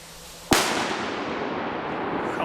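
One loud daylight firecracker bang goes off at the Fallas in Valencia, Spain, and its echo fades away for about two seconds.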